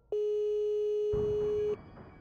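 A telephone line tone from the video game This Is the Zodiac Speaking: one steady, clean pitch held for about a second and a half, then it cuts off, leaving a low, noisy background.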